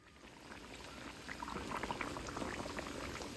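Hot oil boils and bubbles steadily in a pan for frying banana cue, a dense, continuous crackling fizz that grows slightly louder and stays fairly faint throughout, with no voices.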